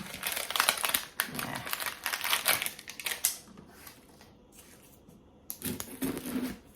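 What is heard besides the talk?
knife cutting an onion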